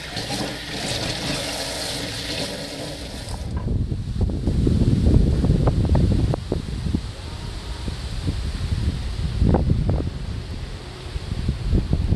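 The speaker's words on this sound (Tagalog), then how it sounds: "Ang lakas ng hangin" Gusty wind in Busan buffets the microphone in heavy rumbling surges, with a rushing roar early on that gives way to low, blustery thumps.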